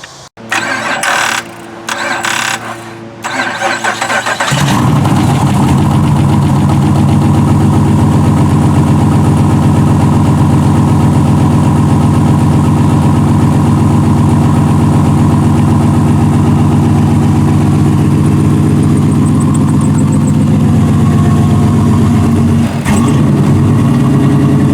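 A Hellcat engine swapped into a 1969 Dodge Coronet, freshly reassembled with a new timing cover, cranks in short bursts, fires up and settles into a loud, steady, rumbling idle close by.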